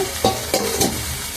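Diced potatoes turning in a hot oiled pan, with a steady frying hiss and three distinct scraping stirs spaced through the short stretch, close and moderately loud, no voices.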